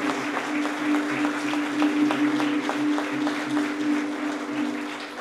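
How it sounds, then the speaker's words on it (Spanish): Church congregation applauding teachers during a Catholic Mass, a steady wash of many hands clapping in a reverberant hall, moderately loud and continuous for several seconds. "vamos a darle un fuerte aplauso a cada uno de ellos"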